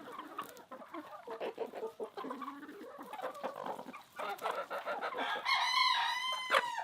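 Chickens cluck and call inside a coop, a busy close chorus of overlapping clucks that builds into louder, higher squawks near the end, with a brief spoken word among them.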